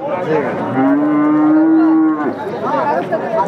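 A Sindhi cow at a cattle market gives one long, loud, close moo with a drawn-out tone, surrounded by faint market noise.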